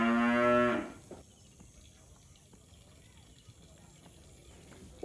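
A cow on a farm lets out a loud, close moo that stops abruptly, followed by quiet background noise with faint clatter and a few soft sounds.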